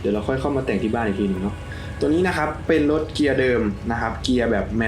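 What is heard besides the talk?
No everyday noises stand out.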